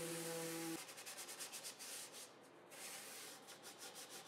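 Faint rhythmic rubbing of sandpaper on wood, repeated back-and-forth strokes following a brief low hum at the start.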